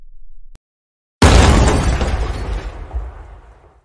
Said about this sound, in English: The TV has been smashed.